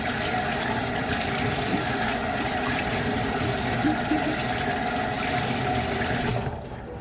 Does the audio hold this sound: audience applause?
no